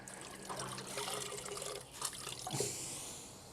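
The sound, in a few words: water squeezed out of a dough mixer machine while cleaning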